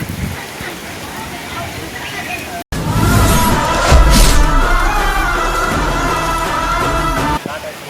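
Heavy rain in Tungala village, Jamakhandi taluk, Karnataka, a dense steady hiss of rainfall pouring on surfaces that grows louder after a brief cut, close and continuous with faint voices in the background.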